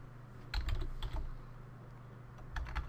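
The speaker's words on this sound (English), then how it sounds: "Now I'm going to type Notepad." Typing on a computer keyboard: a few quick bursts of close keystrokes with a pause in the middle, against a low steady hum.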